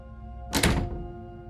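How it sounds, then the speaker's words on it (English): A door closes with a single heavy, muffled thunk in the Slay the Princess video game. The impact sounds close and fairly loud and decays quickly, over a faint steady hum with no speech. "You close the door behind you."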